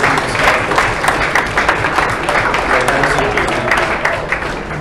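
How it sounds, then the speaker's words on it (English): Delegates at a Model UN closing ceremony applaud loudly, a close, steady roar of clapping from a standing crowd with some murmured voices mixed in. "we have a huge round of applause for the"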